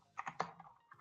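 Short burst of typing on a computer keyboard while entering a cd shell command, three or four distinct close key clicks followed by one more tap, quiet and with no voices.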